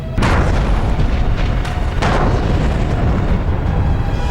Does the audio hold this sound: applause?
no